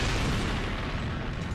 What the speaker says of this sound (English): Burning magnesium attracts oxygen so strongly that it will literally tear the oxygen out of the water molecules.